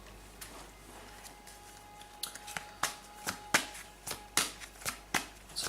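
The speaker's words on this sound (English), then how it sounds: "I'm going to shuffle the angel answer cards" Angel answer oracle cards being shuffled by hand close up, a soft papery riffle that builds into a steady run of crisp snapping bursts, with no talking.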